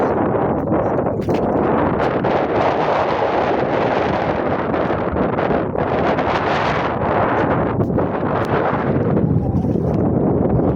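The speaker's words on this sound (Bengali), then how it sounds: "প্রচন্ড বাতাস" Strong wind on a river during a fishing boat trip roars and buffets the microphone in a loud, continuous rush, with no talking.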